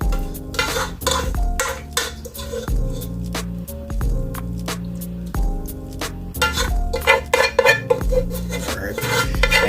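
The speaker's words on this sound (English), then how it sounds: "I try to get as much out of the pot as I can. So y'all, I do scrape." A metal utensil scrapes and clanks against a cooking pot while baked ziti is dug out, giving close, irregular clinks and scraping strokes in quick succession.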